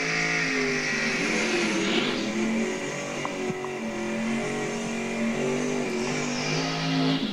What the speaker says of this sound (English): getting better with the burnouts